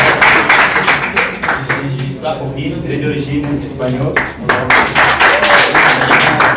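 An audience claps loudly and rapidly, with dense applause at the start and end and a brief dip in the middle where someone speaks over the clapping.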